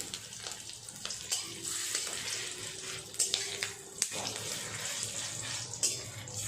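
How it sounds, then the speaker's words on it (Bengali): Small fish roe fritters frying in oil, a continuous close crackling sizzle with intermittent taps and scrapes of a spatula against the pan, no voices. "একইভাবে সব বড়াগুলোই আমি ভাজা করে নেব"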